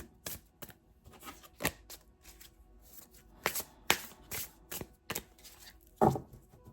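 Tarot cards are shuffled by hand before a reading, irregular crisp riffles and soft slaps close up, quiet and alone with short pauses between bursts.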